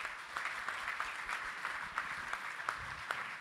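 A gala audience at a supply chain directors' awards ceremony applauds steadily, a dense wash of many hands clapping at close to mid distance with no talk over it.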